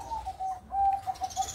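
A zebra dove (perkutut) coos in a short run of repeated soft, evenly spaced notes, close by over a low background rumble.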